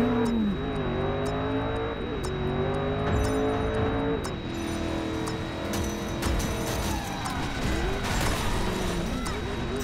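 Car drifting in Driver San Francisco, an engine revving and wavering in pitch with tyre squeal as the car slides, loud and close throughout while someone talks over it.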